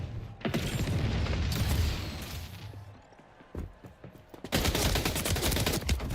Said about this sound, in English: Oh, he threw a grenade.